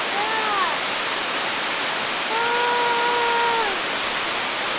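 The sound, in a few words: Keo Waterfall rushing water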